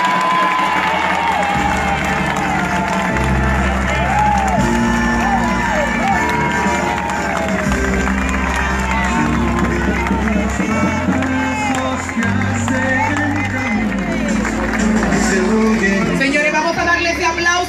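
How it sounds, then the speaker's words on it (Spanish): Crowd at an outdoor Independence Day ceremony in a park in La Romana cheers and applauds loudly and continuously, with whoops and shouts over music with a steady beat, and voices mixed into the din. "vamos a darle ese aplauso bien fuerte a estos chicos"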